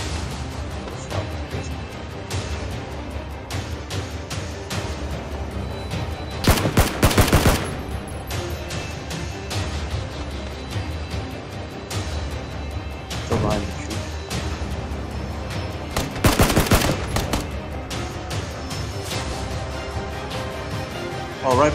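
Bursts of automatic gunfire crackle in the battle royale game PUBG, with two loud, dense volleys standing out against steady background shooting and game noise while players talk over it.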